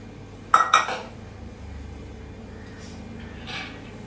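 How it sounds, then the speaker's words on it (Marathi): Soaked chana dal goes into a pressure cooker with two quick, bright metallic clanks close by near the start, followed by faint clatter and a soft knock later over a quiet kitchen background. "मी ही डाळ कुकरला लावून घेते"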